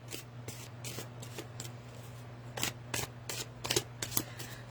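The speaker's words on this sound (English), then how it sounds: "as I shuffle through the cards" A deck of tarot cards being shuffled, with repeated crisp riffling bursts close by that grow denser and louder toward the end, over a steady low hum and no talking.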